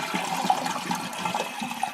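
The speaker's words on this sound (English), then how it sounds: "if you just hold that down for a minute, then you get a better flush" Toilet flushing with a Fluidmaster flapper installed, a close, continuous rush and gurgle of water draining from the tank and swirling through the bowl with no voices.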